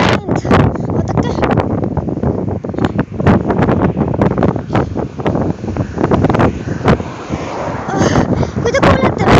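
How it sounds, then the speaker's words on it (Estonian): Heavy gusting wind pounds an outdoor microphone in a loud, unbroken roar of low-frequency buffeting and crackling pops, with a voice barely audible beneath it. "Oodake, siin on täiesti tuul."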